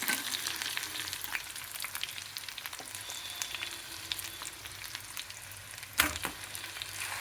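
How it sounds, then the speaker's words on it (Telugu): Onion, tomato and cashew paste frying for paneer tikka masala, a soft steady sizzle with occasional spoon taps and one louder clatter near the end. "బాగా సన్నగా వంట మీద వేయించాలి."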